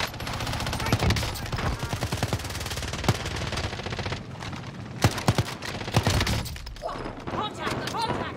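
Bursts of automatic gunfire and single shots crack repeatedly in a Warzone video game, some close and loud, others more distant, while players talk over them.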